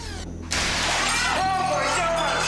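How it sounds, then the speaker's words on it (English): Window glass shattering as something crashes through it in an abandoned house: a sudden loud crash followed by a sustained, bright scatter of breaking glass that rings on for a couple of seconds, with a voice faintly mixed in. "Suddenly, something crashed through the house's window,"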